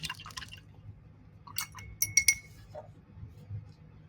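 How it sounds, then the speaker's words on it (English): Acrylic paintbrush rinsed in a cup of water after painting, giving a few light watery swishes and glassy clinks against the container, brief and close, with no talk. "I'm gonna wash my brush."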